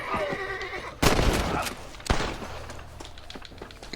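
In the Red Dead Redemption video game, a horse lets out a shrill neigh as it is shot, then sharp gunshot cracks burst out loud and close, with a short whinny between.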